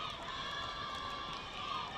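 Nepal supporters in the crowd at an Asia Rugby Sevens match, a continuous roar of cheering and shouting that holds steady at a moderate distance.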